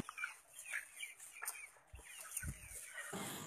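Native country chickens raised on a farm cluck and call in short, irregular bursts at close range, with some low thumps between the calls and no talk.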